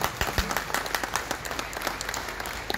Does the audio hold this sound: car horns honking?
no